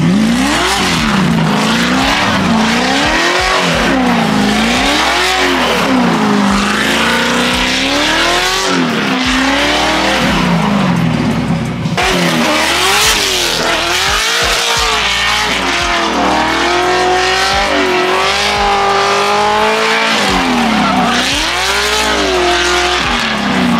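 A C6 Corvette drifts on a track with a loud, continuous engine roar that swings up and down in pitch as the throttle is worked, with tire squeal and skidding throughout, close and dominant.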